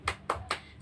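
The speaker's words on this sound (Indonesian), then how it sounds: "Tepuk semangat." Three quick, sharp hand claps in an even rhythm, a children's 'tepuk semangat' spirit clap in a classroom, close and fairly quiet.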